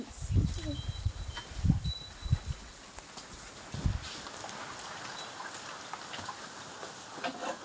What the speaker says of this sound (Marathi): भरपूर पाऊस चालू आहे मंडळी आमच्याकडे